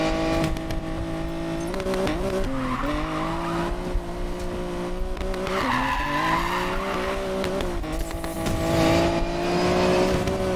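A car in Need for Speed Payback drifts with a sustained, wavering tire squeal over a loud revving engine, continuous and close throughout.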